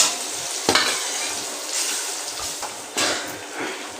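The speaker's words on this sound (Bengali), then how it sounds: "সোয়াবিনটা যতক্ষণ ভাজা হচ্ছে" Soybean chunks frying in hot oil give off a loud, continuous sizzle, with stirring scrapes and a few sharp bursts, and no one speaks.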